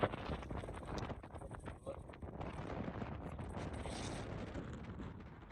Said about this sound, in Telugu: చూడండి, మీకు అర్థమవుతుంది గాలి ఎంత వస్తుందో.